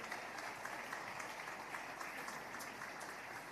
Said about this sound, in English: A round of applause, please. Let's keep clapping.